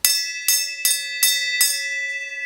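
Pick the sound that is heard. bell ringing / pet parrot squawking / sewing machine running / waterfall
bell ringing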